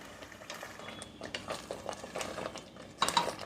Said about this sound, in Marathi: मसाला परतताना असं चमच्याने एकसारखं मिक्स करत राहायचं आहे